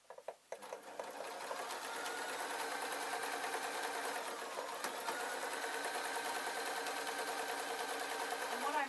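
Sewing machine stitching fabric for a ballet bag, a few brief clicks and taps and then a steady close whirr with rapid needle chatter that runs on without stopping.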